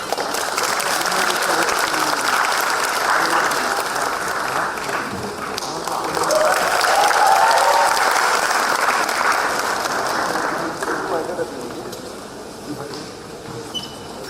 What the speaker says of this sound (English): May we have a round of applause for Hasina and Kunal Kapoor